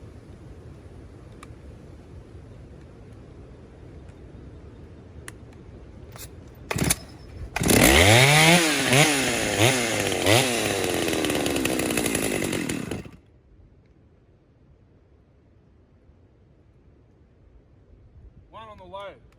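A STIHL 084 AV chainsaw with a modified muffler sputters through a few brief pops, then roars at high revs for several seconds before dropping back to a quiet idle, with a short burst of revving at the end.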